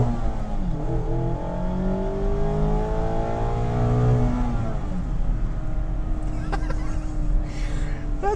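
A 2019 Mazda MX-5 RF with a high-revving naturally aspirated engine and slightly louder exhaust, heard loud and close as it revs up through the gears, its note sweeping through rising and falling pitches.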